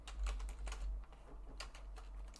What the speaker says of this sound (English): this is a long one to type